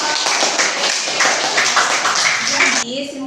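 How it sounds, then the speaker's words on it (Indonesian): A classroom of students claps together on cue, a dense burst of overlapping hand claps for nearly three seconds before it cuts off into a voice. "Tepuk tangan"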